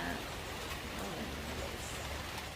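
Steady rain falls as a constant, soft hiss that fills the whole clip evenly, with no distinct drops standing out.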